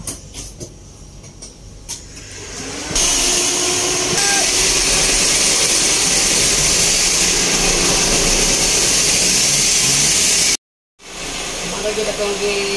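A Toyota Corolla engine runs after a tune-up, a loud steady whir that rises sharply after a few seconds, with a brief dropout near the end and a voice talking early on.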